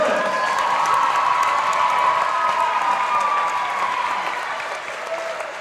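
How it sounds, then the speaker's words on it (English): Crowd applauds and cheers in a high school girls' basketball gym for a senior player, a dense, steady wash of clapping that holds loud before easing slightly near the end, with a held tone running through it. "Ladies and gentlemen, a round of applause"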